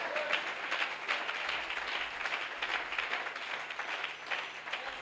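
A church congregation applauding in praise, a dense and sustained wash of clapping from many hands at moderate distance, with no speech.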